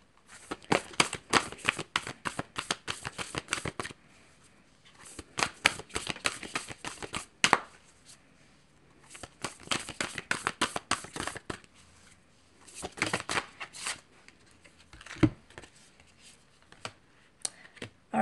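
Cards from a Whispers of Love Oracle deck shuffled by hand in repeated bursts of crisp riffling and flapping, with short pauses between rounds, close and fairly quiet with no voices.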